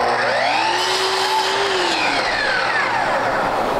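A power saw cutting the end of a Victorian door head moulding: a loud, steady whine that rises in pitch as the blade spins up and then dips under load through the cut, with no talk.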